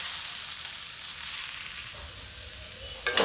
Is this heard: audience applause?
no